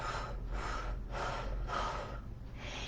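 Breathy exhales during a guided breathing exercise, heard close as about five soft rhythmic puffs of air evenly spaced over a low steady background.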